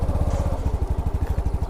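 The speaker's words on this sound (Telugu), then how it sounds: "ఇప్పుడు బైక్ మళ్ళీ ఆన్ అయిపోయింది" A 2021 TVS Jupiter IntelliGo scooter with automatic start/stop runs its small engine, a steady rhythmic putter close by, loud and alone without any voices.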